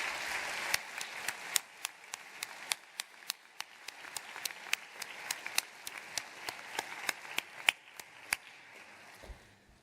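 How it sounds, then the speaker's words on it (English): Applause at a university commencement ceremony for a graduating class, fairly quiet with sparse, distinct individual claps scattered across a softer background of clapping from the audience. "how about you give them all a round of applause?"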